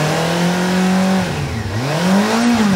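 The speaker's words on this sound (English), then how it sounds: "Let me give it a bit of a rev." A Honda CB400 motorcycle engine revs up and down in smooth swells, its pitch rising, dipping, then climbing again, loud and close with no talking.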